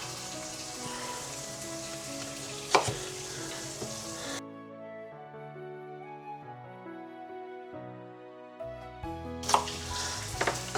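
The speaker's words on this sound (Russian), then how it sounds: "Пускай потихонечку это нажарится" Chicken pieces sizzle steadily in a hot pan, a soft continuous crackle that fades out behind a stretch of gentle background music before the frying hiss returns with a couple of louder spits near the end.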